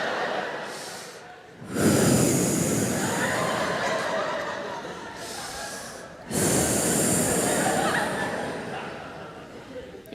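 A comedian on stage imitates deep, slow breathing into the microphone, with two long, loud rasping inhales or exhales separated by brief pauses, the voice performing the sound.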